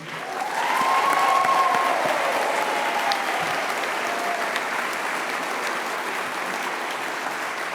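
A graduation ceremony audience applauds steadily, a broad even patter of many hands swelling early then holding at a constant level, with a brief whistle near the start.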